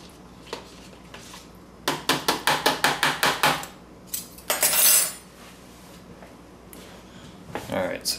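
A utensil mixing pizza dough ingredients of bread flour in a bowl, a fast run of rhythmic clinking scrapes followed by a few scattered knocks and a brief swish.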